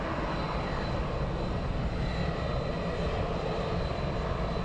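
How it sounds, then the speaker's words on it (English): An airliner taxiing at London Luton Airport produces a continuous broadband engine roar, steady and fairly distant, filling the whole stretch without any talk. "I do believe we have another aircraft taxiing out. I'm sure I can hear it."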